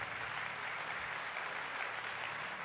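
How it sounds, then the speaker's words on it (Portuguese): Congregation applauding during a church service, a steady dense wash of clapping that holds evenly throughout without clear individual claps. "Aplaude a Jesus aí pela vida"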